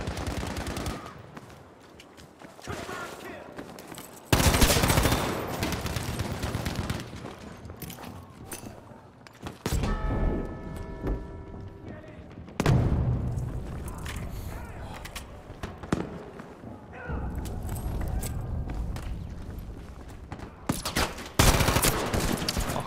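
Battlefield V gameplay with bursts of rapid automatic gunfire and heavy shotgun blasts, punctuated by mechanical clicks and footsteps, coming in loud clustered volleys separated by brief lulls.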